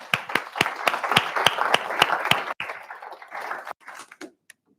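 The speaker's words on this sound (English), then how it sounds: "Let's give them a big round of applause." Close, sharp hand claps from a small group in a regular rhythm at the Africa Youth Future-Forward Summit 2025, thinning into a few scattered claps before trailing off into near silence.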